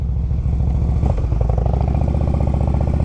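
Harley-Davidson CVO Road King V-twin engine revving close up, a steady loud lumpy exhaust pulse that swells briefly as the throttle is blipped, with no voices over it.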